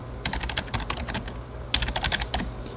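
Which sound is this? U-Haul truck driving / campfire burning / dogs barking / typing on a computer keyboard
typing on a computer keyboard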